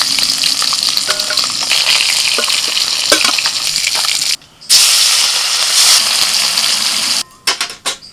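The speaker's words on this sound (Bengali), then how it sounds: "এবার এই যে মাছ ভেজে নেব।" Rui fish fry in hot oil in a wok, a loud continuous sizzle with crackles and spits, close by, briefly cut off twice before returning.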